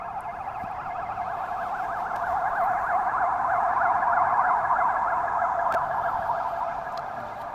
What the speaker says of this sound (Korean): 구급차가 오는 관계로 조금 쉬었다 가겠습니다.